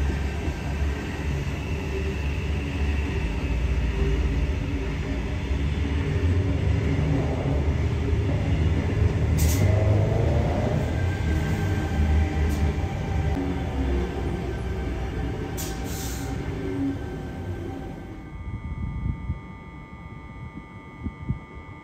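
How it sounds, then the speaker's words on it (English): A NIF D set passenger train arriving into and departing Strathfield station platform, its rumbling motor and rolling wheel noise filling the air continuously, with brief high squeals, before the sound drops away near the end as it fades or stops. "The train on platform 1"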